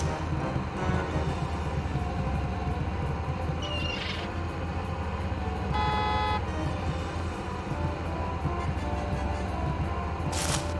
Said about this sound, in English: Press the B button to honk the horn and clear the traffic.